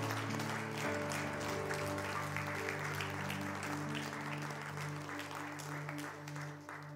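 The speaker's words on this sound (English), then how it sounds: "Somebody clap your hands." A church congregation claps their hands in a steady wash of applause, held under sustained organ or keyboard chords, fairly loud and continuous for several seconds with no talking.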